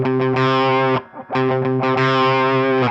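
Distorted electric guitar playing a riff, loud, thick chugging notes in a quick rhythmic pattern with one brief gap, and no voices.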